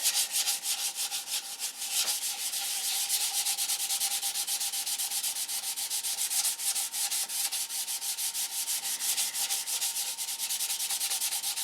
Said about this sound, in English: Sand out on all the scratch marks you just put in from the 80 grit, 320.